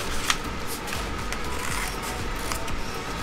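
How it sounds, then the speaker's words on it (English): Scissors cut steadily through a paper sewing pattern, making a continuous crisp slicing and rustling up close, with a few sharper snips along the way. "you're going to cut it right at that lengthen and shorten line. I'm going to cut right here"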